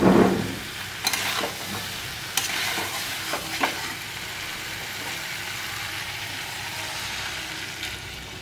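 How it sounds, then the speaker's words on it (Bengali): Soybean and potato curry stirred in a pot after hot water is added, a soft steady simmering hiss with a few sharp scrapes and knocks of the spoon early on, then a quieter, even bubbling. "আমি জল দিয়ে নাড়িয়ে নিয়েছি"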